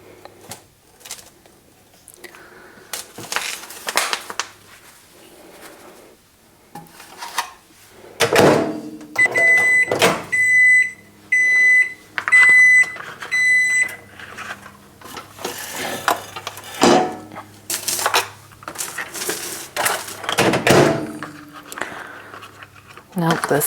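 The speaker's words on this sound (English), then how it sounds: "put this in the microwave for about 2 minutes." A microwave oven runs, then a series of evenly spaced electronic beeps sounds partway through, surrounded by clunks, handling noises and people talking.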